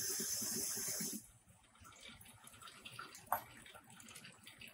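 Water gushes from a lab tap used to drive a vacuum filtration setup: a loud, steady hissing rush for about a second, then cutting off to a faint background with a brief knock.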